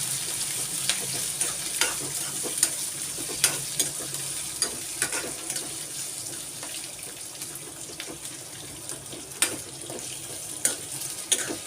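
Capsicum frying in oil in a pan, a steady close sizzle broken by scraping stirs and clinks of the utensil, with no talking.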